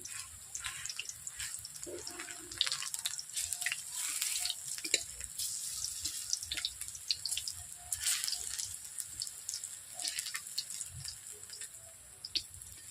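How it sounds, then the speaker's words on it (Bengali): Leafy greens fritters (shaker bora) fry in a pan, giving a faint, steady sizzle full of fine crackles and small pops throughout. "এইভাবে আমি ভেজে নিচ্ছি"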